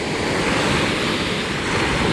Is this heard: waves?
yes